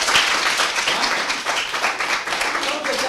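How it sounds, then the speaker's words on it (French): A classroom of students claps for themselves after a quick arithmetic exercise. The irregular, moderately loud applause runs throughout, with voices mixed in. "Applaudissez pour vous-même."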